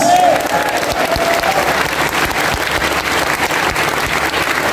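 Church congregation clapping loudly together in sustained applause, a dense steady wash of hands throughout with a brief voice at the start.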